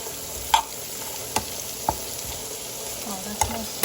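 Sweet peppers fry softly in a pan, a faint continuous sizzle punctuated by a few sharp clinks and taps of a spoon against the pan.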